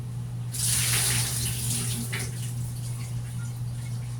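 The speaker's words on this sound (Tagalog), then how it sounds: "Hugasan natin ng 24 na beses yung ating talbos ng kamuting fresh na tanim natin sa likod bahay" Freshly picked sweet potato leaves are rinsed under a running tap, the water gushing and splashing loudly as the flow starts, then settling into a softer steady trickle over a low electrical hum.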